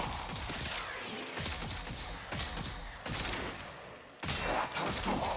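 Tenet Tetra gun firing in the Warframe video game, a rapid, steady stream of punchy shots with a semi-automatic cadence that continues without pause.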